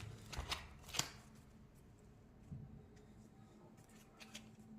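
Tarot cards are shuffled and drawn close by, with soft riffling slaps and flicks in short bursts, a sharper snap near the start and quieter card handling afterward.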